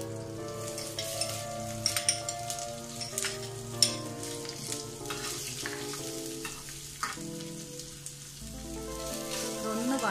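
Onion with green chilli sizzles steadily in hot oil for paniyaram, a close, soft crackling fry with occasional stirring clicks, alone without talk.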